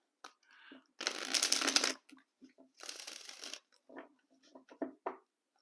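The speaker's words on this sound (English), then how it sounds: "I'm going to shuffle one more time." Playing cards being shuffled for a card reading, two distinct riffling bursts close to the microphone separated by a pause, followed by soft handling clicks and taps.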